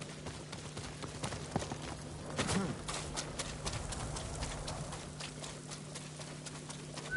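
Steady clip-clop of horse hooves in Ghost of Tsushima trots along in a quick even rhythm over a low constant hum, with a voice speaking briefly.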